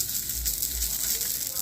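Hissing sizzle of seafood frying in a little oil, a steady crackling spray heard close up and alone.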